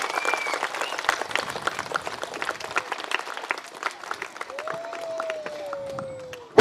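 An audience at a school event applauds for Jagadish Sir and Ratnamma, loose scattered claps rising and thinning over several seconds, with a voice and some whistled or sung tones drifting through the crowd noise.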